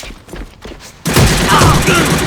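Rapid PMX gunfire in the A.V.A video game on a Korean server: after a quieter opening with a few sharp shots, a loud, dense burst of automatic fire starts abruptly and keeps going to the end.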